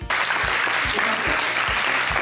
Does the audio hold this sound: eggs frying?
no